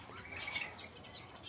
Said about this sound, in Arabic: طيور حب إنجليزي شباب، طيور حب إنجليزي، طيور كلها أبطال